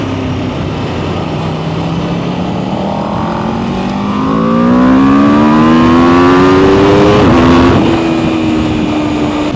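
Aprilia RSV4 Factory motorcycle engine lugging at low revs before accelerating, a loud rising drone with climbing harmonics, a brief gear-change dip, then continued pull without speech.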